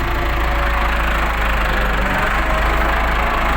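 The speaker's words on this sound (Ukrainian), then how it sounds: "Ну, даю другу, так, да, це друга, не перша і поїхав" A Case 695 tractor engine runs steadily and loudly as it pulls away in second gear, a close, continuous mechanical drone with no voices.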